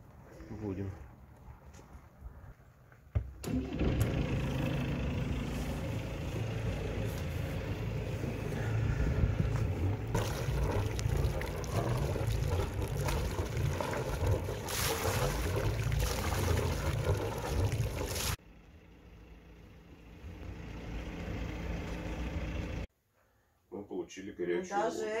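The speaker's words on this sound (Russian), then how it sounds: "Ребята на соседней лодке тоже моторят." A boat motor runs on open water in poor weather, with a steady, droning hum, wind buffeting the microphone and people talking over it. The engine noise cuts off abruptly near the end and briefly returns.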